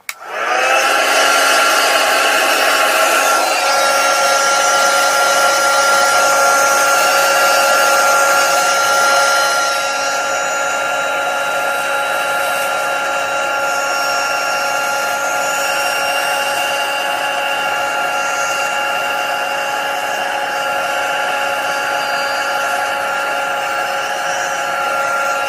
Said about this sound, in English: I'm going to warm that up, and you'll see me heat the back and then the front as well to try and keep the cardstock as flat as possible.